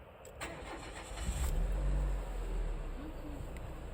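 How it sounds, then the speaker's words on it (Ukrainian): A 2007 Renault Clio 3 engine cranks and catches, then settles into a low idle, heard fairly quietly with a few faint clicks at the start. "Старт двигуна все в порядку"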